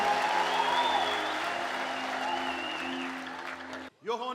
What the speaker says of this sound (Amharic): ስለዚህ የታለ ባካችሁ ጭብጨባ።